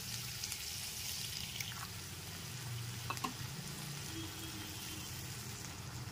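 A little water poured into masala frying for a vegetarian potato and eggplant curry: a steady, close hiss of frying with a few brief splashy spits, and no one speaking.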